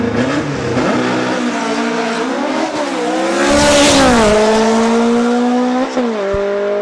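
Mega Bug drag race car making a single pass at Farmington, a loud, close engine revving up through rising gear-like steps, surging to a peak midway before the pitch drops and climbs again as it pulls away.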